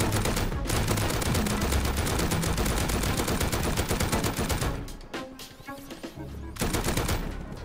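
Dense, loud automatic gunfire rattles almost without pause in the survival game Rust, rounds pounding in at close range, dropping off briefly near the end before another burst resumes.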